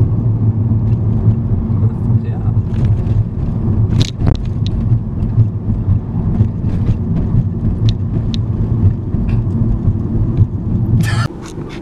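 A car drives through an abandoned MG Rover factory at Longbridge, its low engine rumble and road noise steady from inside the cabin, with scattered knocks and a voice talking over it before it cuts off near the end.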